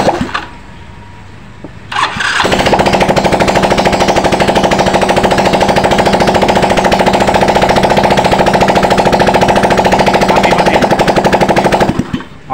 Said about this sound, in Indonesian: langsung Torx ini knalpot belum dipasang jadi berisik banget